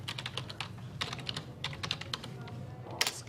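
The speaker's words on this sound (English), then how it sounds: "Just type it in Google Earth." Rapid typing on a computer keyboard, with close, crisp key clicks in an irregular stream and a few louder strikes near the end.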